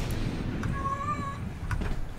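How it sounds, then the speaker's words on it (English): A house cat, one of several agitated pets in a room, lets out a single drawn-out, mid-loud meow lasting under a second, heard over a steady low background hum with a few faint clicks around it and no talk. "My cats are going nuts for some reason, too."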